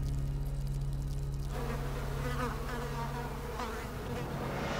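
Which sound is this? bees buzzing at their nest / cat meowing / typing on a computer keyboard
bees buzzing at their nest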